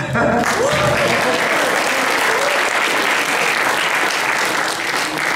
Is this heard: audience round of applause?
yes